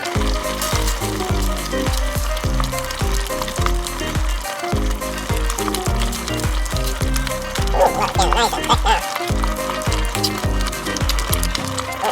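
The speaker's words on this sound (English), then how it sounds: "Thicken it, so we just keep stirring." Spicy Chinese lobster sauce sizzles and fries steadily in a hot pan as it is stirred and thickened, a continuous close crackle running throughout with a rhythmic, beat-like pattern underneath.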